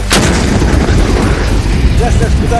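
A single loud, sharp blast from an SPG-9M recoilless gun opens the clip, followed by a rumbling echo and background noise, with a brief voice near the end.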